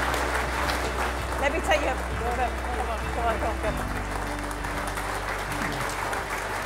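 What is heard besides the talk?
audience applause at an awards event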